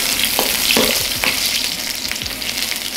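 Onions hitting hot oil in a wok for mushroom chow mein, a loud, dense crackling sizzle throughout with a few spatula taps and scrapes, up close and unaccompanied by speech.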